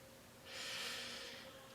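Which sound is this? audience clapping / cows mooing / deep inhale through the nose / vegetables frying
deep inhale through the nose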